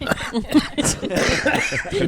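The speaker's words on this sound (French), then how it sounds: "je vais tousser d'abord parce que je suis encore malade" A person who is sick and still recovering coughs and clears their throat several times, close by, with short laughing sounds and talk mixed in.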